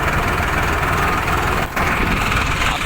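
A farmer's tractor engine idles at a roadside blockade protest, a loud, constant rumbling drone with a brief dip partway through and no speech.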